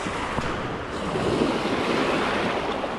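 Sea water gushes and surges at a rocky fishing spot on the Oman coast, a broad rushing wash with wind buffeting the microphone, steady and fairly close, without speech.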